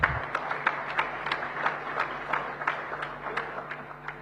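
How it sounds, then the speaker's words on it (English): Scattered applause from a crowd at a business convention, individual claps audible in a loose, moderate rhythm, somewhat distant in a large room. "give each other a big, big round of applause, please"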